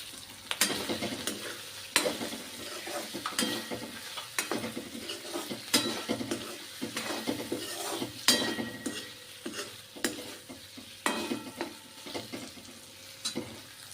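Onions sizzle in a hot pan while a utensil scrapes and stirs in repeated strokes, with occasional sharp clinks against the metal.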